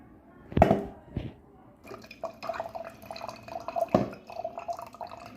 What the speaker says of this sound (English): Then we will take the red cabbage water, and then we will be putting the water on it